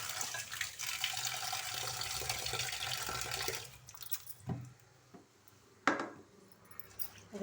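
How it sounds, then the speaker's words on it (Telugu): Water runs steadily from a tap while soaked lentils for idli are rinsed, a loud broad rush for about three and a half seconds, then stopping into quieter sloshing and a couple of sharp splashes. "ఇది ఒకసారి వాష్ చేసేసుకొని మనం మంచినీళ్ళతో నానబెట్టేసుకుంటే సరిపోతుంది"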